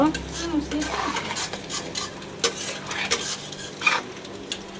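Chow mein noodles seasoned with tasty salt are tossed in a pan, with intermittent scraping and clinking of a utensil against the metal over a soft background sizzle, close and moderately loud.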